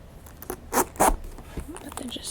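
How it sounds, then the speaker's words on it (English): A zipper on a boot is worked in two short raspy pulls close up, quick and soft against quiet whispering in the background. "the zipper"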